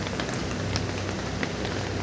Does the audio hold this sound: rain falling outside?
yes